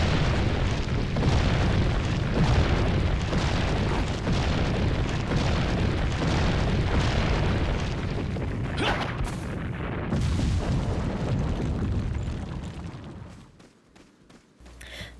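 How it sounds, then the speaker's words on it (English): A huge boulder rolling through a tunnel in Resident Evil 4 rumbles as a loud, continuous low roar with scattered crashing thumps, then cuts off abruptly near the end. "Leon is almost crushed with a boulder."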